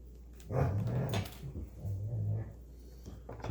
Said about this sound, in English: Excuse the dog in the background.